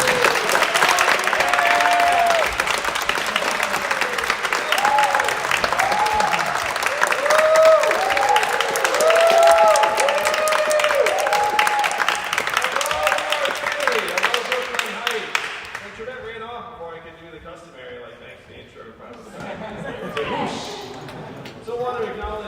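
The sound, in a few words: audience applause for Andrew Yang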